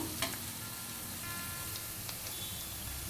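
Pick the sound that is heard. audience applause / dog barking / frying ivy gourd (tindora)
frying ivy gourd (tindora)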